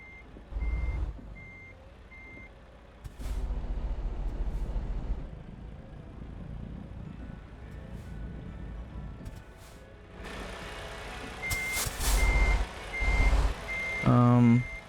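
Reversing beeps from a truck backing a trailer toward a wall in American Truck Simulator, a steady repeating electronic beep over a low diesel engine rumble, with someone talking over it.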